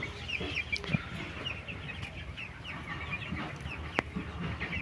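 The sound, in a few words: chickens and chicks clucking in poultry coop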